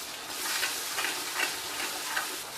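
Garam masala, red chili powder, coriander-cumin powder and turmeric sizzle in hot oil for a Gujarati chana sabji, a steady close frying hiss with a few soft stirring swells and no talk.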